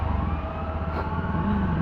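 A wailing ambulance siren rises and falls steadily under low traffic rumble, sounding moderately close and continuous throughout.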